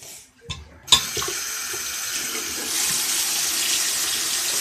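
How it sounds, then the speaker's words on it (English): Hot water runs steadily from a bathroom tap, starting after a couple of short knocks and pouring continuously, fairly close, with no talk over it. "So I'm getting hot water."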